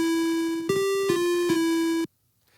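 FamiTracker chiptune tone with a smooth attack and no transient: a steady buzzy square-like note with bright harmonics, shifting pitch slightly in a few steps, sustained about two seconds and then cutting off abruptly to silence.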